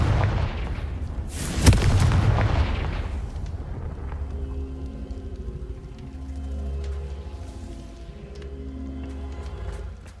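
Confringo spell blast in the Hogwarts Legacy video game: one loud, sharp explosive burst early on, then a rumbling tail and low, ringing game ambience with no talking.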